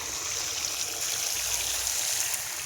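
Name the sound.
irrigation water flowing toward the berseem clover field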